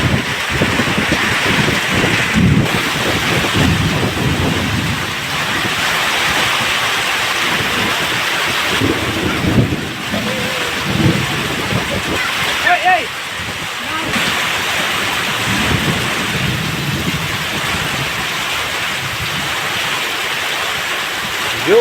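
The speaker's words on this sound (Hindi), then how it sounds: "जोरदार बारिश भी हो रही है" Heavy rain pours steadily in a rural farmyard during a windy storm, a dense loud hiss with splashing and occasional gusty rumbles continuing throughout.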